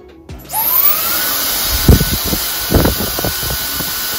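A steady, loud blowing whoosh of a hair dryer on medium heat and medium power starts up and runs continuously, with brief handling bumps and rustles underneath.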